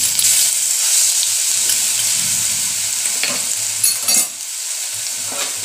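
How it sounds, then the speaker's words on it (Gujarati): Ginger, chili and garlic paste with asafoetida sizzles loudly in a hot pan. A bright, continuous hiss is broken by a few louder spatters and stirring scrapes near the end. "આદુ મરચા અને લસણની ત્રણેય મિક્સ પેસ્ટ બનાવી લઈએ અહીંયા આપણે ઉમેરી દઈશું."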